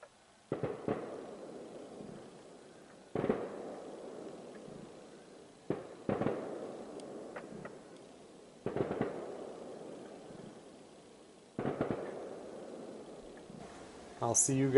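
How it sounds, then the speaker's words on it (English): Fireworks bursting at a distance over a lake, a series of booming pops spaced every few seconds with crackling trails, heard outdoors in fairly quiet surroundings. "they have their fireworks show"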